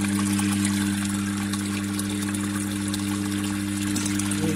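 Water from a homemade borehole well is pumped out and poured away, with a steady motor hum and a continuous rushing gush of water running throughout, close and loud.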